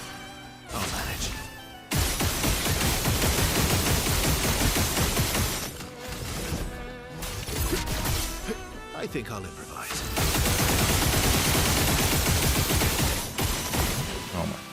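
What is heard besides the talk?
gunshots in a video game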